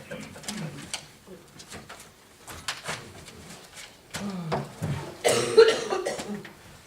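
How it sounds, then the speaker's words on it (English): Coughing in a town board meeting room, several short harsh bursts scattered over a few seconds with a louder cluster near the end, heard at moderate distance amid faint murmuring voices. "Take care of that cough then."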